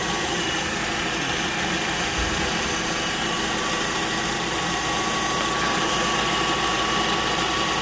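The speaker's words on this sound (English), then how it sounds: "Okay, so the car is running, as you can hear" A 2012 Honda car with a failed AC compressor idles steadily, a loud continuous engine rumble with a faint constant whine and no talking.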